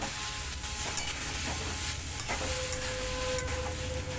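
Spice paste loosened with a little water sizzles steadily in a frying pan while it is stirred, with soft scrapes and clinks of the spoon up close. No one speaks.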